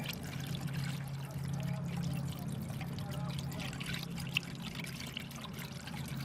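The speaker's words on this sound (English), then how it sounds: "So I'm just gonna sprinkle a little bit of water on it," Water sprinkled onto fishing line wound on a Daiwa Tanacom 1000 electric reel gives a soft, close trickling patter over a low steady hum, fairly quiet throughout.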